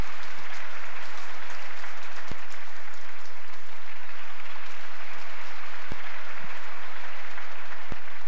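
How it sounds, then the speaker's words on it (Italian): A festival crowd at an open-air May Day event in Lido Valderice applauds in memory of Totaiello, with a loud, unbroken wash of clapping that holds at an even level throughout and a few sharper claps standing out. "Tutti insieme l'applauso fortissimo in memoria di"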